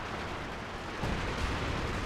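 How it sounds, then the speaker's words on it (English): Artillery fire rumbles across the Port of Hamburg map in Company of Heroes 2, a dense continuous barrage of booms with a heavier thump midway. "A lot of artillery fire."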